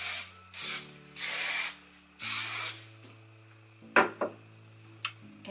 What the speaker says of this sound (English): Then one last little spray.